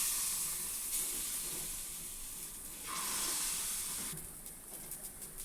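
Gram flour bonda batter sizzles and hisses in hot oil in a paniyaram pan, a soft steady frying hiss that swells briefly midway and again as more batter goes in, with small crackles.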